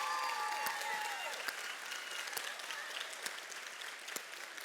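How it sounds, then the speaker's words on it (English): An audience applauds warmly after a personal story shared at a church gathering, steady dense clapping from many hands fading slightly over several seconds, with a brief voice or two faintly underneath. "let's give Kiley a round of applause"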